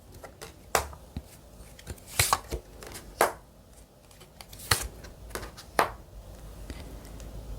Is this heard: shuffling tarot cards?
yes